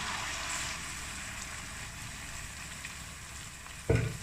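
A paste of onion, tomato and green chili sizzles in a pan for an egg curry, a continuous crackling fry that flares into a louder hiss as fresh ingredients hit the hot oil near the end.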